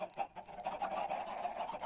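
Chickens cluck repeatedly in a Minecraft-style farm game, a run of short clucking calls at moderate level with no speech.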